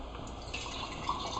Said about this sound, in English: to this jar, I'm just going to add a little bit of water